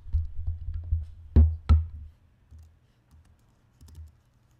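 A few soft keystrokes typed on a computer keyboard, with two sharper, louder key clicks in the middle, close and alone over a low background hum.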